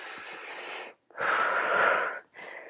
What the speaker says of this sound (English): come back to breathing in through your nose, out through your mouth